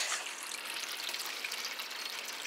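Water filling a toilet tank, a steady, close hissing stream with a slight trickling texture and no pauses.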